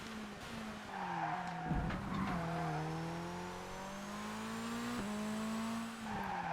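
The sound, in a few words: race car handbrake skid in the video game ToCA Race Driver 2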